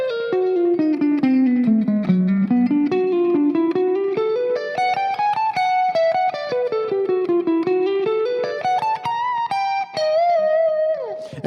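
A lead guitar plays a solo passage from a song at slowed tempo, single sustained notes sliding and bending up and down in a flowing line, close and alone.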